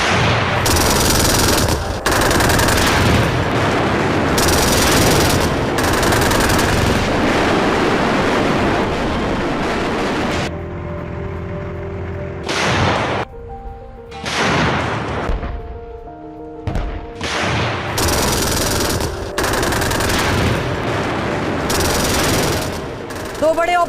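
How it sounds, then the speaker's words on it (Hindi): Tank-mounted machine gun fire during a ground operation in Gaza, loud sustained bursts near and heavy, broken by a short quieter gap with a few separate rounds before the bursts resume. "आईडीएफ ने टैंक पर लगे मशीन गन से किया फायर"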